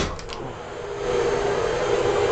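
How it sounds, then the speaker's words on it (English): A paint booth ventilation exhaust fan runs with a continuous broadband whooshing hum, close and fairly loud, steady apart from a slight swell partway through. "This is my ventilation output, and that allows the booth to exhaust gases."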